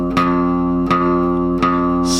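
An electric guitar plays a riff as three evenly spaced plucked notes, each ringing out clearly before the next, close and fairly loud with no talking.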